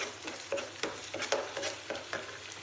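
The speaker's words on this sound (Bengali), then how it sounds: "এটা নাড়িয়ে নিই একটু" Ginger-garlic paste and spices stirred in a pan, a utensil scraping in a steady rhythm of strokes about every half second over a soft, continuous sizzle, fairly quiet and close, with no talking.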